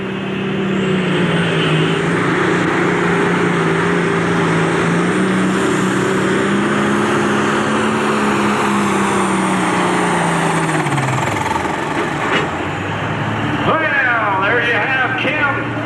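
An Allis-Chalmers pro stock pulling tractor roars loudly at the 1992 Ohio State Fair 10,000-pound tractor pull, its engine holding a heavy droning pitch that sags near the end, with an announcer talking over it.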